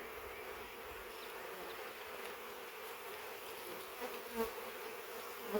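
A steady, low insect buzz of many honeybees around a hive fills the whole stretch at moderate level, with a couple of brief louder swells near the end.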